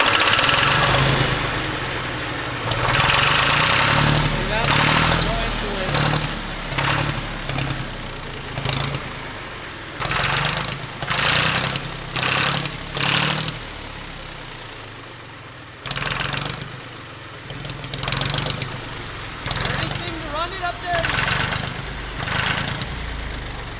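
A small engine runs close by, revving up and dropping back repeatedly in bursts, with a rough idling chug between revs.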